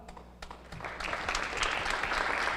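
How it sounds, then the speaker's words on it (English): Audience applause at a high school Veterans Day assembly honoring cadet officers, starting sparse and swelling into broad, steady clapping from a large crowd. "Let's give a round of applause for Cadet Sergeant Major Ortiz, Cadet Captain Crouchman."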